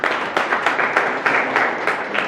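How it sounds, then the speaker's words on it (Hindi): Loud applause from a business meeting audience greeting a speaker, a dense steady wash of many hands clapping close by with repeated swells, no voices over it. "जोरदार तालियाँ"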